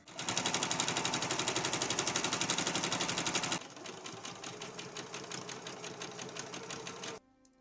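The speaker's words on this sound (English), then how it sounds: "So basically I'm just quickly sewing the dart in before I like hand stitching it" A sewing machine stitches a dart in a sleeveless coat with a fast, even mechanical rattle, running loud and steady, then continuing at a slightly lower pitch before stopping abruptly near the end.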